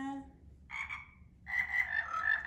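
A frog croaks in short, bright repeated calls, first one brief burst and then a longer rapid run of croaks, close and clear over a quiet low hum.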